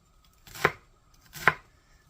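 Two distinct knife chops through an onion on a cutting board, evenly spaced about a second apart, close and crisp against a quiet kitchen background.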